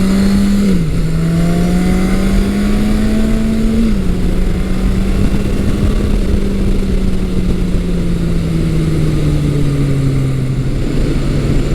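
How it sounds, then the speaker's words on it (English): A classic Yamaha XS1100 motorcycle engine accelerates with a loud, continuous drone, its pitch holding steady and then easing slightly as it runs on smoothly. "The smooth acceleration of the Yamaha is quite addictive."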